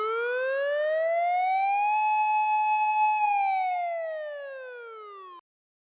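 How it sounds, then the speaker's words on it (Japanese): Fire engine siren sounding alone in a single long, smooth wail that rises, holds steady, then falls before cutting off abruptly, loud and close. "これは消防車。"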